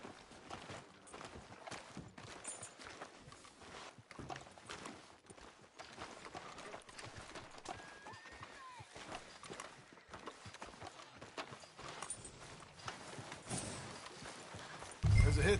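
Horse hooves clip-clop steadily at a walk through a Red Dead Redemption 2 town, faint and rhythmic beneath almost continuous conversation between characters.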